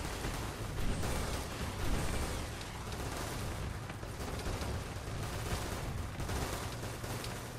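Dense, continuous gunfire from a battle in the video game ARMA 3 between Imperial Guard and Ork forces, overlapping shots and bursts forming a loud, unbroken fusillade.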